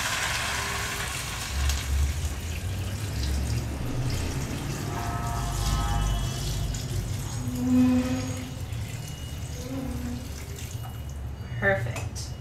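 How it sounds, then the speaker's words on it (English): About eight cups of water poured into a pot of vegetable broth, a gushing, splashing pour with bubbly gurgles that tapers off, under a voice talking through it. "And lastly, we're going to pour our water in."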